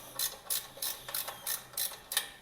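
A ratchet wrench tightening the engine guard bolts on a KTM EXC dirt bike, seven evenly spaced bursts of close, crisp clicking in a steady rhythm, heard alone without talk.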